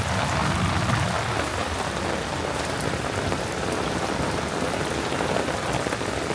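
Heavy rain of the season's first big downpour pours steadily and loudly, a dense unbroken wash of drops hitting nearby surfaces with no voices.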